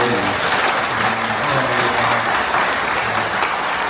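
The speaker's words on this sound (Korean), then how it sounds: "우리 서로를 위해서 환영하는 박수 한번 하시죠" Welcoming applause from a gathering of retired pastors at a church conference, a steady, dense wash of many hands clapping at close range, with faint voices murmuring underneath.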